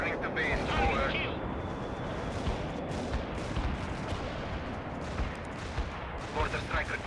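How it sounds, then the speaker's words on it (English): A mortar strike in the video game World in Conflict, heard as a dense, continuous rumbling barrage of blasts and crackling impacts with a few sharper bursts, under faint radio-style voices. "Mortar strike requested. Firing away."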